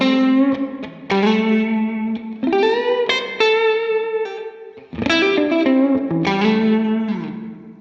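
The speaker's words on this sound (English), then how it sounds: "So here we are in the Dynamic Room Reverb." Distorted electric guitar through a Line 6 Helix Dynamic Room reverb plays a sequence of chords and single notes, each ringing out with a roomy reverb tail that blurs into the next.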